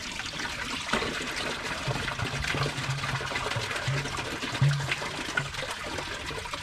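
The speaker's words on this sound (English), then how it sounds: "That was a press and release flush." A Kohler Wellworth Class 5 dual-flush toilet, flushed with a quick press and release, gives a steady rush and gurgle of water running throughout, close and fairly loud, with no talking.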